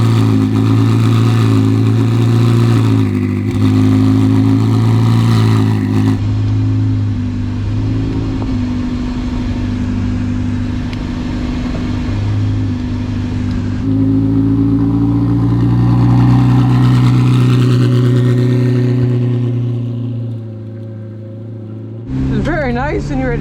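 Ferrari 488 Challenge Evo race car engine starting up and revving: a loud, deep, steady idle with rising and falling rev swells, heard close inside the car with people talking over it.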